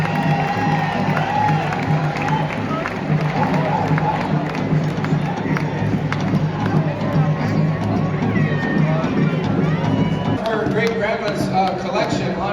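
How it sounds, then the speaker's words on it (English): A rodeo grandstand crowd at the Pendleton Round-Up and Happy Canyon Night Show roars with cheering, whoops and clapping, a dense, loud wash of voices sustained for over twelve seconds with a low hum beneath. "So let's have a big round of applause here for Mr. Pat Baird and Mr."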